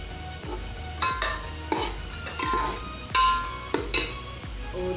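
Tomatoes and green chillies go into keema cooking in a pan, with a spoon stirring in repeated scraping strokes, roughly one per second, over a steady sizzle, close and clear with no talk.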